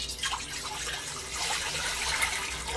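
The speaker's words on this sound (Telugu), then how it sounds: "వాటర్ పోస్తున్నాను" Water splashes and trickles steadily into a cooking pot, a continuous bright pouring sound at moderate level with no talking.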